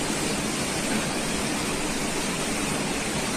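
Ouzoud waterfall, with its gorges below the falls, gives a steady, dense roar of falling water that holds an even level throughout with no voices.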